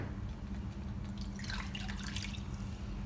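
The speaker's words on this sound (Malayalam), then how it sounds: "അപ്പം ഞാൻ ബാക്കിയുള്ള പാലും കൂടെ ഇപ്പോൾ ഒഴിക്കുകയാണ്" Milk is poured into a pan of thickening white sauce for penne pasta, making a soft, steady liquid splash that swells briefly in the middle against a low background hum.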